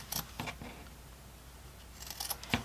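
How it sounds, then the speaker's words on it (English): Scissors snip the corners off a sewn fabric piece: a quick cluster of crisp cuts, a pause of near quiet, then another short burst of snips, close and clear. "you're going to trim off the corners"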